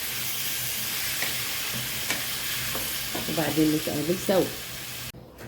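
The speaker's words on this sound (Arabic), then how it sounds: "لغايه ما اللحمه تتشوح" Minced meat sautés in a pan, a steady loud sizzle and hiss throughout, with someone speaking briefly over it before the sound cuts off abruptly.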